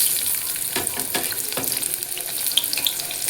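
Chopped onion, from one large onion, hitting hot oil in a pan, a loud continuous hissing sizzle with a few soft stirring knocks, close up and without speech.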